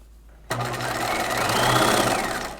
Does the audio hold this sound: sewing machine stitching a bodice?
yes